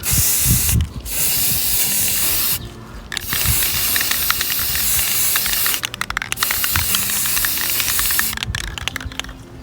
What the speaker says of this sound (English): Now I'm going to spray the chalk paint a little bit.